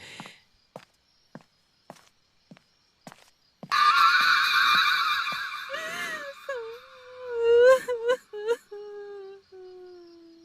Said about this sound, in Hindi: कहीं पास से रोने की आवाज आई, धीमी, टूटी हुई, जैसे कोई बहुत दर्द में हो